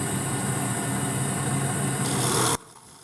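A wood lathe spinning a duck call blank while a tool cuts a decorative contour, a steady loud hiss and hum running continuously before dropping abruptly to a quiet motor drone near the end, no talking.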